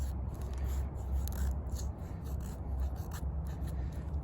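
A SteelWill Druid 205 bushcraft knife carves thin wood shavings, giving a continuous soft rasping scrape at close range with slight rhythmic strokes and no talking.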